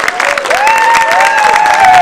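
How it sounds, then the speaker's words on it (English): A crowd at a legislative caucus tribute event applauds loudly and close, with sustained clapping mixed with rising whoops and cheers riding over the top. "Can we give her a big round of applause for all of her hard work?"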